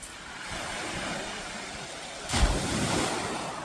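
Sea waves near a viewpoint in Muscat wash in as a steady broadband roar with wind buffeting the microphone, one wave breaking more loudly partway through.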